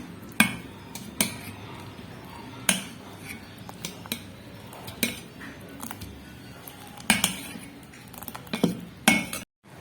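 A spoon clinks and scrapes against a bowl while masala paddu batter is stirred and mixed, giving irregular sharp taps and knocks at close range, with no talking.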